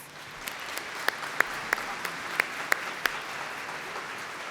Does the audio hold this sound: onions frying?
no